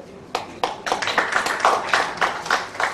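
A person claps their hands in a quick run of sharp, close claps, roughly a dozen in about three seconds.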